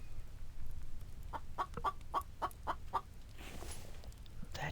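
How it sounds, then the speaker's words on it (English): A chicken in the video game The Infected gives a run of about seven quick, sharp clucks in a steady series, faint and fairly close, over a low background hum. "That chicken is so close."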